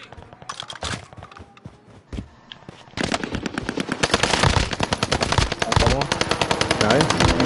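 Rapid bursts of automatic gunfire in a shooter video game, sparse shots at first, then dense, loud sustained firing with overlapping rounds, with occasional player talk underneath.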